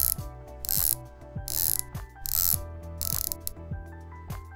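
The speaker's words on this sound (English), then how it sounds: "The C60 has a 120-click unidirectional timing bezel." A Christopher Ward C60 Sapphire's 120-click unidirectional timing bezel is turned, giving a quick series of crisp, close ratcheting clicks in short bursts of several clicks each, with no talking.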